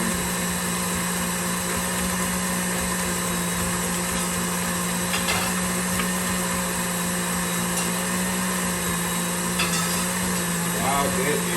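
An electric mixer creaming butter in a bowl for strawberry cheesecake cupcakes, a loud steady motor whir that runs without pause, with a few faint clicks and scrapes against the bowl.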